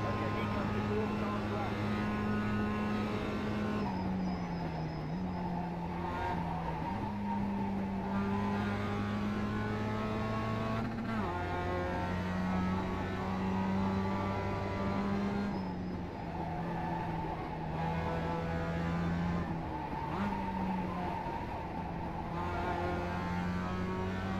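Mazda Cup race car engine in iRacing at Charlotte Speedway, a steady loud droning whine that rises and dips with gear shifts and throttle lifts throughout, with a voice talking over it.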